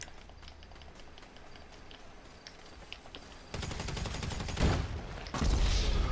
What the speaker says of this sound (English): Wow, that shotgun has range.